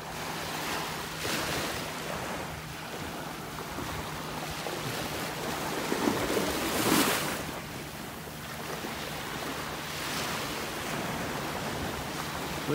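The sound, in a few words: small waves rippling along the shore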